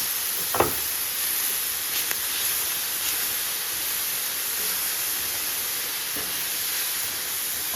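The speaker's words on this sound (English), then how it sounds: "listen to that sizzle, and now we are going to add garlic" Steady broadband sizzle of garlic frying in a hot pan, continuous and fairly loud, with a few faint clicks.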